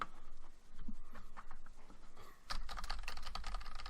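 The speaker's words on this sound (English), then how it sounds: "I'm typing a message out to Chris real quick." Rapid, irregular clicking of fingers typing on a computer keyboard, close and fairly quiet, in short bursts with brief pauses and a denser run of keystrokes toward the end, no talk.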